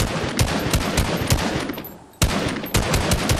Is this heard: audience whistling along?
no